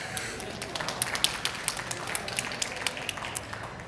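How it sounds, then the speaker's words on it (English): A live audience at a talk on beating addiction gives a faint, sparse round of applause, with scattered individual claps spaced through it. "thank you for the round of applause"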